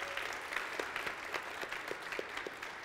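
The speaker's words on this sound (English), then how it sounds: "Please applaud for these two amazing individuals." Audience applause at a public domain celebration event, steady and fairly faint, heard from a distance with no talk over it.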